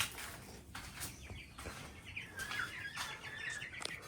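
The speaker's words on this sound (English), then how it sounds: "We got 2 roosters and 4 hens." Two roosters and four hens newly bought for a home in the Philippines are heard as chirps and short clucking calls with scattered bird sounds, fairly faint at a moderate distance.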